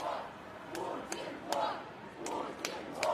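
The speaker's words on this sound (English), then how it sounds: "you might be able to hear the crowd behind me and around me chanting" Protest crowd in central Moscow chanting in rhythmic waves, a massed roar of voices rising and falling several times, moderately distant with sharp claps or shouts punctuating it.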